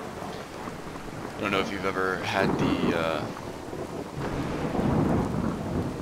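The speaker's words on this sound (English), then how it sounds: "awesome experience of being in a thunderstorm in the middle of the woods, but it's pretty scary." A thunderstorm in the middle of the woods: steady rain and low rolling thunder fill the background while someone talks over it, with a heavier rumble swelling toward the end.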